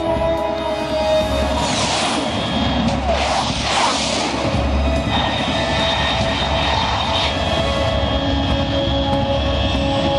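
A fast aircraft roars steadily in the game Metal Gear Solid 3, its loud engine drone broad and sustained, with rushing surges early on as it passes overhead.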